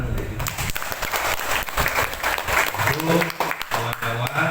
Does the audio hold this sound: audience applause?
yes